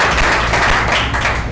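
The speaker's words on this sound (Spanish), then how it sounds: "un aplauso para vos" An audience at a talk with a Medellín city councillor claps in a brief, dense burst of applause that stays loud and even from start to finish.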